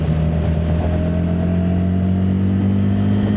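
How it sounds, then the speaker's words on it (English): A Triumph Scram 350 motorcycle in 4th gear, its single engine droning steadily at close range as it slowly gathers speed, with a smooth, even tone, rising slightly and without interruption. "I'm currently in 4th gear and let me slowly accelerate."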